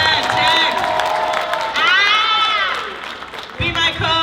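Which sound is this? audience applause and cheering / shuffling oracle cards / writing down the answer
audience applause and cheering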